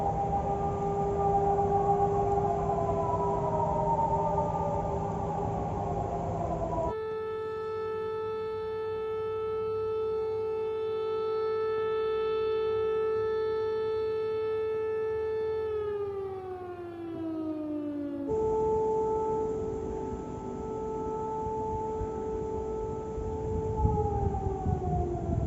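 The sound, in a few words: air raid sirens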